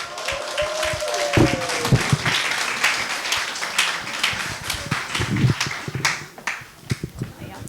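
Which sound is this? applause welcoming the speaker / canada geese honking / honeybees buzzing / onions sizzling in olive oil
applause welcoming the speaker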